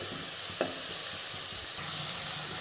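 Ginger garlic paste frying in a pan for a bhindi masala curry, with a steady sizzle and a few scrapes of a stirring spoon, close and continuous, with no voices.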